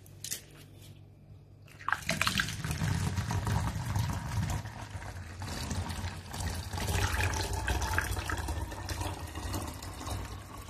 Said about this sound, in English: what I'm going to do now is to pour in some amount of clean water